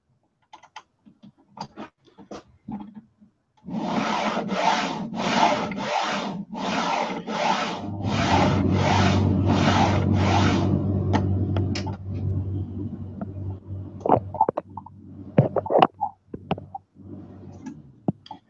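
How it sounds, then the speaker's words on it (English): Wooden flat-pack furniture parts grate and creak in a run of rhythmic rubbing strokes as the bolts are slackened, settling into a lower grinding, then scattered knocks and clicks. "So it sounds quieter when it's slack, but I can still feel it's grating a bit."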